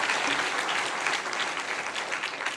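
A church congregation at a Korean founding-anniversary Sunday service applauds, with dense, loud, continuous clapping from many hands filling the room and holding steadily throughout.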